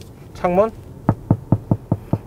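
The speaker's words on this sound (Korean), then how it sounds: "창문을 두드리는 소리 아주 잘 들립니다." Knuckles rap on the car window inside a Hyundai IONIQ 5: seven sharp, evenly spaced knocks, loud and close. A brief vocal sound comes just before them.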